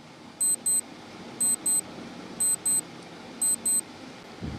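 An on-screen quiz countdown timer beeps in repeated pairs of short, high electronic tones, four pairs spaced about one second apart over a low steady background hiss.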